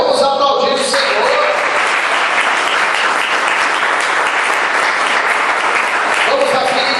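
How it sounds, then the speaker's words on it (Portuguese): Church congregation applauds the Lord during a Portuguese-language service, a broad wash of clapping and voices filling the room steadily, with a voice and music briefly at the start and end. "vamos aplaudir o Senhor"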